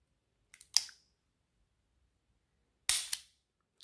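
The hammer of a Taurus Model 605 .357 Magnum revolver snaps down in two sharp, dry metallic clicks about two seconds apart, close and crisp against near silence, with no shot.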